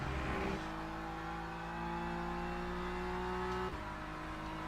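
GT3 race cars lapping Bahrain in the Le Mans Ultimate racing game, with a steady high engine drone that shifts pitch abruptly at gear changes, loud and continuous.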